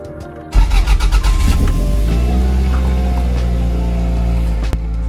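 A car engine cranks and catches, then settles into a loud, steady running rumble as the car creeps forward on its first drive, with a brief knock near the end.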